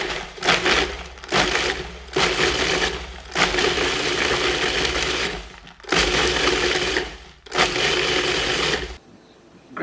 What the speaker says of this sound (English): I'm going to use this food processor just to break these up